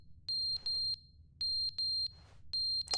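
Shrill electronic fire alarm from The Stanley Parable video game, sounding in paired bursts with short gaps and a faint hiss between them, steady and fairly loud.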